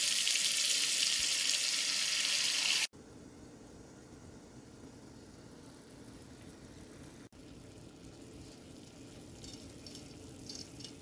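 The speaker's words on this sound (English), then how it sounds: "I always use low heat when I'm simmering the sauce." Pasta sauce simmers over low heat in a pot, giving a loud bright hiss at first that abruptly drops to a quieter, steady bubbling sizzle.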